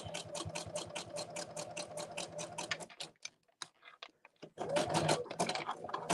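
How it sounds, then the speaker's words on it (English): A sewing machine stitches a coil of fabric rope in quick, regular rapid-fire bursts for about three seconds, pauses with a few scattered clicks, then starts stitching again, close and clear. "Maybe I started on the sewing machine too soon."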